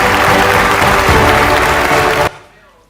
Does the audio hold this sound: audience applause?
yes